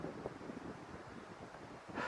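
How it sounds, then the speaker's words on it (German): Cold wind blowing outdoors on an evening trek with a Deuter Aircontact 65+10 backpack, a steady rushing roar that buffets the microphone, loud and close, with no talking. "hier pfeift echt ein kalter Wind rein"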